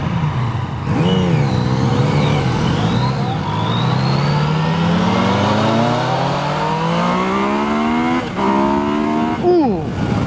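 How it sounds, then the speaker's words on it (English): A 2016 Yamaha FJ-09 (MT-09 Tracer) motorcycle engine revs hard close by, its pitch climbing steadily, then dropping briefly and surging up again near the end. "That sounds good. That sounds real good. Yeah, this is a good engine."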